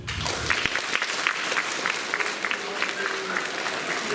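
Audience applause at a school Teachers' Day assembly, a steady dense clapping from a large crowd filling the space throughout, with some faint voices mixed in.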